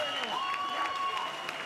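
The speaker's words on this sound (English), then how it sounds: "could we please have a big round of applause for both of our fighters?" Crowd applause rises at a Vida Fighting Championships mixed martial arts event after a TKO, a dense clapping wash heard under a voice on the arena sound system.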